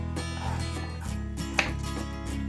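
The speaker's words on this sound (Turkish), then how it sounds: "Şimdi cevizlerimi ben iri parçacıklar halinde doğrayacağım." A knife taps repeatedly on a cutting board in quick, uneven chops, coarsely chopping walnuts, close by over a steady low hum.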